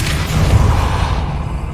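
A Depulso spell is cast in Hogwarts Legacy, a loud, dense whooshing burst with a deep rumbling low end that swells and then fades away over under two seconds.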